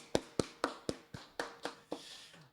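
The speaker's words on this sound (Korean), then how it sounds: "다 함께 박수하겠습니다" Church congregation at a Christmas service clapping in unison, about nine crisp, evenly spaced claps in a steady rhythm, fairly close and alone without talk.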